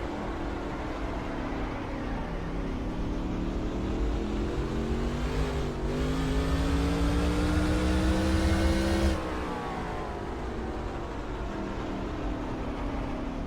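Race car engines roar in a CASCAR racing game at Mosport Speedway, a steady loud drone with a rising whine as the car accelerates, then easing back as it shifts down.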